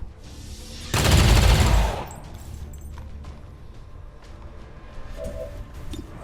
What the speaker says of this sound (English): I'm gonna take a potential critical shot